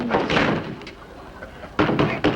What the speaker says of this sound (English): Oh, you don't have to knock